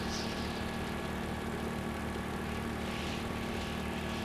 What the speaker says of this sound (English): Not exactly speedy chopper.